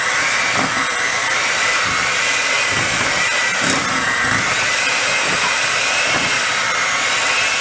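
Electric mixer beating gluten-free peanut butter cookie dough, a steady loud motor whir with slight rhythmic variations as the beaters work the dough, close and continuous without talking.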